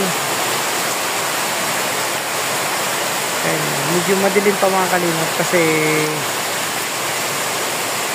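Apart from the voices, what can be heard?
heavy rain during typhoon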